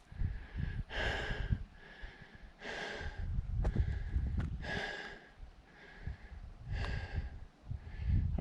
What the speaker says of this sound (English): I'm breathing pretty hard.